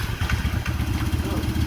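A vintage Honda Grand motorcycle engine idles with a steady low rumble, close by and continuous, while a voice talks over it.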